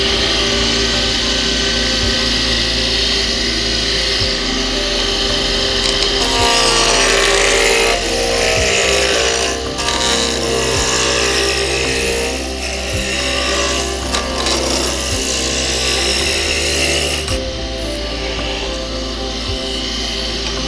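Wood lathe spinning a honey dipper blank while a gouge roughs it down, a loud sustained motor hum under scraping and cutting chatter that swells and cuts out in bursts, with sharp knocks as the tool catches.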